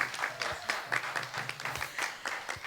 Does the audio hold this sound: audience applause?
yes